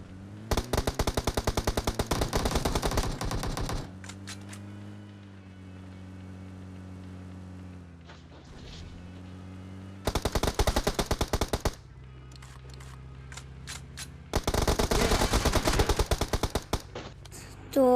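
Bursts of rapid automatic gunfire from M416 and M249 rifles in a shooter video game, three long loud volleys separated by quieter engine-like hum.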